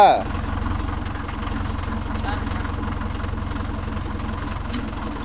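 A Mahindra Yuvo Tech Plus 585 DI tractor engine runs steadily close by with a low, knocking diesel throb that holds at an even level throughout, with a voice speaking over it.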